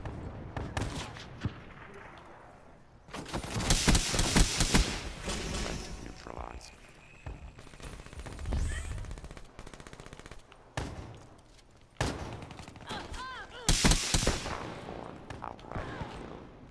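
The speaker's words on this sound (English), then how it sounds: "Let's see what I can do with a shotgun." A shotgun fires in the video game Call of Duty Black Ops 3, with several loud clusters of blasts spread across the clip and a player's voice heard between them.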